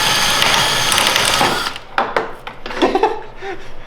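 A power drill bores out a rivet on a Can-Am Maverick X3, whining steadily and loudly for over a second before stopping, followed by scattered clanks and handling noises nearby.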